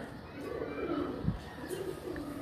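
Breeder pigeons on a rooftop loft coo softly in a low, steady murmur, close by and without any talking.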